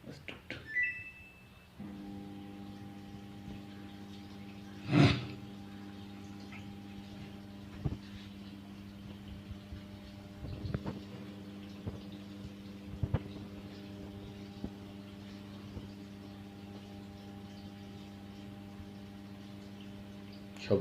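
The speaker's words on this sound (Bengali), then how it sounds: "এই যে পানি পড়তেছে, ডিটারজেন্টের কাছ থেকেই পানি পড়তেছে।" Samsung WA90J5730SS 9 kg top-loading washing machine taking in water, a steady low hum and drone with faint tonal whine running throughout, broken by a few sharp clicks and knocks.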